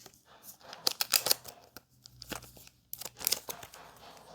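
A plastic PSA graded-card sleeve is folded over, producing close crinkly plastic rustles and crisp snaps in a few bursts with brief pauses.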